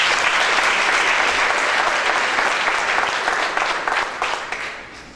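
Audience at a Somali youth and Boston police dialogue gives a loud, sustained round of applause, dense clapping that slowly thins and fades toward the end.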